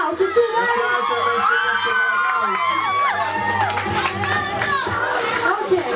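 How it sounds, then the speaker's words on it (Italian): A crowd of fans at a December 2012 fan meeting cheers loudly and continuously, with whoops and children shouting over a dense wash of excited voices. "un grande applauso"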